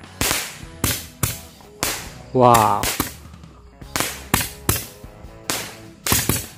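Tora-tora firecrackers set off during Ramadan: a string of sharp, loud cracking bangs at irregular intervals, a dozen or so in quick succession, with a brief exclaiming voice in the middle.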